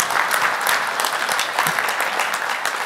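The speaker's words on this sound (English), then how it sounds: "round of applause for Kieran." Audience applause during a Student Beans presentation, a steady dense burst of clapping from a crowd lasting a few seconds, moderately loud and unbroken.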